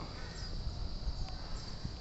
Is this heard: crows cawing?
yes